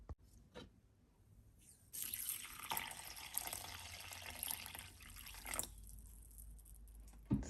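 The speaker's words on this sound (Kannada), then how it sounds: "ಸೊ ಈ ಅಕ್ಕಿನ ಈಗ ಒಂದು 2-3 ಸರಿ ವಾಶ್ ಮಾಡ್ಕೊಳ್ಳೋಣ." Rice being rinsed in a kitchen sink under running tap water, a steady splashing, pouring wash lasting several seconds after a quieter start, with no talk.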